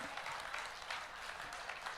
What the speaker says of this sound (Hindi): एक बार जोरदार तालियां इस अद्भुत गीत के लिए